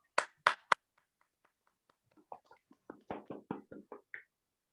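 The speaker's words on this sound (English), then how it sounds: "A big round of applause to like the winners for today's meeting." A few sharp hand claps, then a pause and a sparse, uneven patter of clapping from a small group at an online Toastmasters meeting, faint and close.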